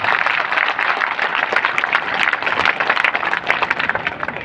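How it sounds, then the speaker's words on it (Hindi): A large crowd at a farmers' conference political rally breaks into loud, dense applause that holds steady and full throughout, a continuous wash of many hands clapping. "ताली बजाओ इनके लिए जोरदार।"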